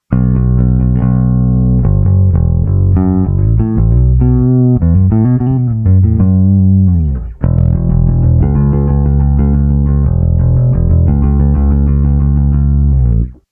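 Bass guitar through a light 4:1 compressor into a Noble DI with a high cut, playing a continuous loud, dead-sounding bassline with a slight rasp, one brief gap midway, and no talking.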